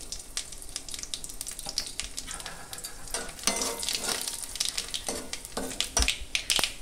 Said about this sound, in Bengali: আমি ওই তেলের মধ্যেই দিয়ে দেব দুটো শুকনো লঙ্কা ফোড়নের জন্য, আর দেব 1 চামচ সর্ষে।